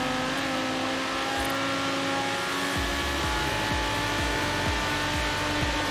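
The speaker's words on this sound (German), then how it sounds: "Vollgas geben." A car engine at full throttle in Forza Horizon 3, a steady loud droning roar with rhythmic revving pulses building through the second half, no talk.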